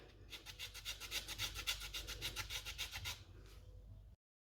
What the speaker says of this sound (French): je viens zester tout le citron sur le dessus